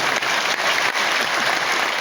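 Audience applause filling an auditorium at a BJP event, a dense steady wash of clapping held for two seconds without any talk over it.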